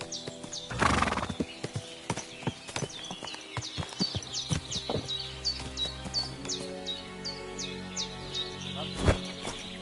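A horse whinnies loudly in a video game, followed by a steady clip-clop of hooves and a final snort, with birds chirping faintly in the background.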